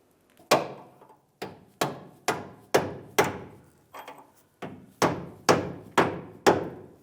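A hammer tapping a leaf spring shackle into place on a 2007-2013 Chevrolet Silverado, about a dozen sharp close metallic knocks in an uneven rhythm, each ringing briefly before fading, with no talking.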